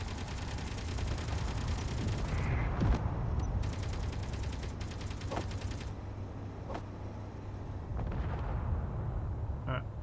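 A rocket explosion in the video game Underground Alone: a heavy booming blast over a steady mechanical rumble, followed by scattered clanks and a few lighter bursts.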